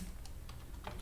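Quick keystrokes on a computer keyboard, a few light clicks in about a second, faint and close with no voices.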